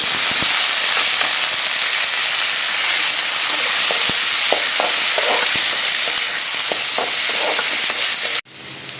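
Onions sizzle and fry steadily in a hot pan for rava semiya upma, a loud continuous crackle with scattered pops and stirring clicks, ending abruptly near the end.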